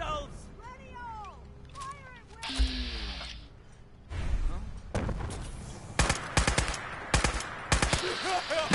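Battle gunfire in the video game Fallout 4 Far Harbor: voices talk first, then loud, close shots and short bursts crack out in a ragged, irregular string, growing denser toward the end.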